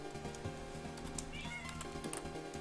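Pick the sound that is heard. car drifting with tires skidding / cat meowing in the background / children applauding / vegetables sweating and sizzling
cat meowing in the background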